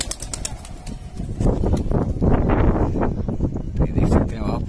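Kalsara pigeons in a loft flutter and stir, with bursts of wing flapping and soft cooing close by, a brief whistle-like tone early, and people talking over the birds.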